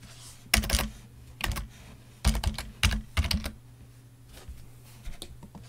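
Close-up typing on a computer keyboard during a software search on a Windows 10 PC: short bursts of quick key clicks separated by quiet pauses, with no talking.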